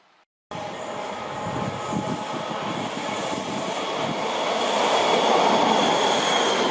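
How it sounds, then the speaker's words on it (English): Realtrack Class 156 model train in First Scotrail livery running on a layout, a continuous close rumble of wheels on track with faint squealing that grows slightly louder. "This is the next commuter service running up to Glasgow, which is the Realtrack Class 156 in First Scotrail livery."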